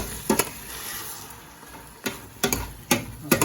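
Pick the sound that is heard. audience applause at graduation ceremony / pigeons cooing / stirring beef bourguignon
stirring beef bourguignon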